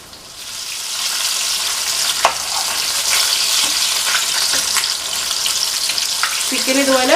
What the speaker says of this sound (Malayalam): ചിക്കൻ ഇതുപോലെ ഒന്ന് തിരിച്ചിട്ട് നമ്മൾ ഫ്രൈ ചെയ്തെടുക്കാം.